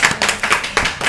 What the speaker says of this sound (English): Audience, clap.